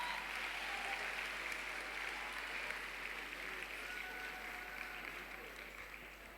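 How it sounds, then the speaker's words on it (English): Sustained applause from a school debate audience at a World Scholar's Cup global round, steady broadband clapping throughout at fairly low level, with no voices over it. "Let's have a round of applause for our esteemed panelists"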